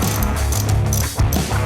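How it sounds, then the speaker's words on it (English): Screws holding the indicator lights are backed out on a Harley-Davidson Iron 883 motorcycle, a close, steady metallic ratcheting and grinding that runs almost without a break. "remove these two screws holding the indicator lights"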